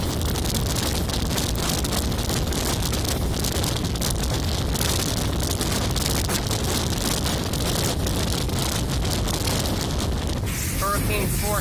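Hurricane-force nor'easter winds on Cape Cod, Massachusetts, with sustained speeds near 77 mph and gusts above 90 mph, roar in a continuous loud blast buffeting the microphone.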